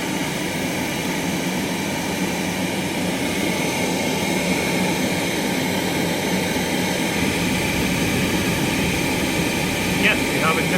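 A Worcester Danesmoor kerosene oil boiler fires up and runs with a steady, even roar and hum from its burner and motor, continuous and fairly loud for the whole stretch, with a faint brief click near the end.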